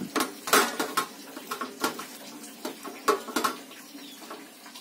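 Potato dough for gulab jamun is kneaded by hand in a bowl, giving soft, irregular squelching pats and light clinks against the bowl, close and fairly quiet, with no talking.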